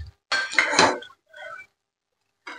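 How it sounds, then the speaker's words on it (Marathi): Metal spoon scraping and clinking against a pan while soft sabudana potato khichdi is served into a dish, one longer scrape followed by two short quiet clinks, close by. "डिश मध्ये काढून घेऊया."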